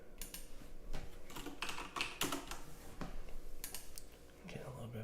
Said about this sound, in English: Getting a little bit faster typing.